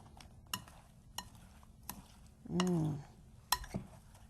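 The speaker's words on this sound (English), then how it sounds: "we're mixing it and really good here. Getting those apples all covered with that fabulous syrup" A spoon mixing apples in syrup in a bowl gives sparse, soft clinks and scrapes at irregular intervals, with a brief voiced sound in the middle, all fairly quiet.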